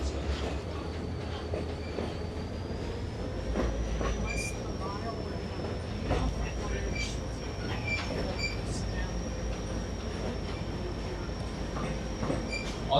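Train ride aboard the Lehigh Scenic Railway, a steady low rumble of rolling wheels with faint clicks and a thin wheel squeal running throughout, heard from inside the car.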